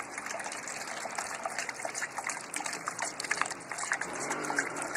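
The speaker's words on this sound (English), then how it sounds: "So now I'm going to begin pulling in my new coolant." New coolant being poured into a car radiator after a flush, a steady close gushing and trickling of liquid that runs for the whole stretch, with no talking over it.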